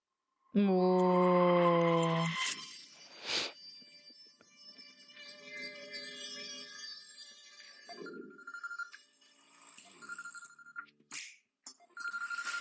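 A telephone rings loudly and clearly in a scene from the Telugu film Yevadu, a bright repeating ring at the start, followed by quieter voices and background score.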